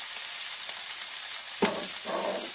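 Garlic sizzles in a pan as a steady crackling fry, with a soft stir or scrape of the pan near the end, and no voices can be heard.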